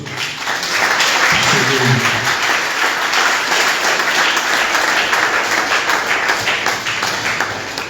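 A congregation applauds during a church service, with steady, dense clapping that holds at an even level for the whole stretch, and a voice is briefly heard beneath it early on.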